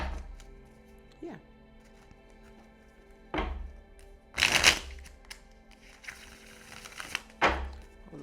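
A deck of tarot cards is shuffled in several short, crisp riffling bursts spaced a few seconds apart, close and clear, with soft thumps as the cards settle and quiet speech in between.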